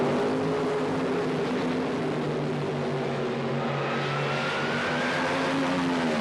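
A 1978 Camaro-bodied funny car roars hard through a drag launch from a standing start, a loud, steady engine blare with rising harmonic tones held across the whole stretch.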